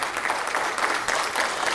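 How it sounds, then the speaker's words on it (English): Brief, lively applause from a high school concert audience for jazz band soloists, with many hands clapping in a dense, even patter. "give them a round of applause"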